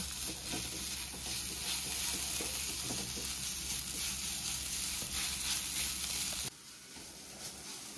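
A beetroot and carrot mixture with cumin powder, turmeric and black salt is stirred in a frying pan. Soft sizzling continues alongside repeated scraping strokes for several seconds, then drops quieter near the end.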